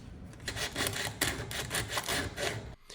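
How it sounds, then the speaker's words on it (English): Sandpaper scrubbing hard across a Trezor Keep Metal seed plate, a dense run of rapid rasping back-and-forth strokes, loud and close, stopping just before the end. "Now we try to sand down the seed phrase with sandpaper."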